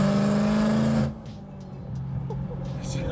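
BMW M3 E92 engine heard from inside while driving: a loud, steady engine drone for about a second, then the level drops and a quieter cabin rumble continues with faint voice-like sounds.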